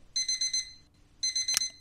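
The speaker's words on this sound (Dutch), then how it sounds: "De wekker gaat." An in-game alarm clock in Roblox Bloxburg rings in two bursts of rapid, high electronic beeping separated by a brief pause, clear and fairly loud with no talk.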